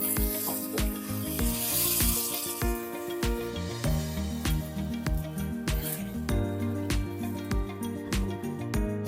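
Rice cooks in a pot with meat stock and a little water added, giving a steady soft sizzle and bubbling with scattered clicks and taps from the pan, close and moderately quiet.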